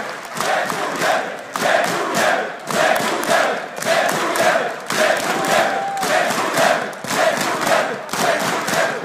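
A large crowd at the EMS One Katowice 2014 CS:GO esports semifinal chants in a pulsing, repeated rhythm, loud and close, with cheering and shouting rising and falling in waves.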